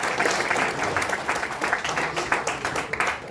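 An audience at a silk merchants association event applauds, a dense, steady burst of many hands clapping close by.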